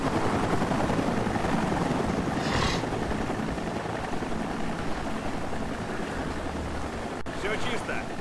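A helicopter in the game Sniper Ghost Warrior gives off a steady heavy rotor roar that holds at an even level throughout, with faint voices underneath.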